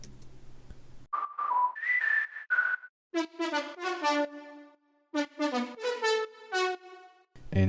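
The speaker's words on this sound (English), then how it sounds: "A whistle sound," A whistle-like synth lead preset made in Vital plays a short melody of pure sliding tones, then a brighter, harmonically rich run of stepped notes, clean and close with brief gaps of silence and no talk.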